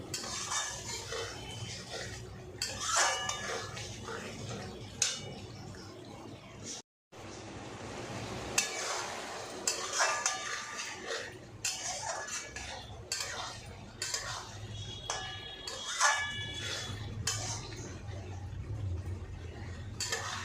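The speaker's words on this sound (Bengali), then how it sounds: "এবার আর একটু ভালো করে কষাবো" Masala with cashews and raisins is stirred and fried in a pan, with a spoon scraping and clinking against the metal in irregular bursts over a steady low sizzle. A brief silent gap breaks the sound early on.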